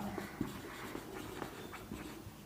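Marker or chalk writing on a classroom board, faint scratchy strokes in short repeated bursts, close by and alone.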